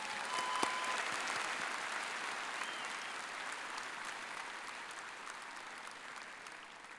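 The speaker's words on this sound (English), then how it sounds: "I think that deserves an applause of gratitude." Sustained applause from a large audience at Iowa State University's spring 2024 undergraduate commencement ceremony, steady and fairly loud throughout, easing off only slightly toward the end.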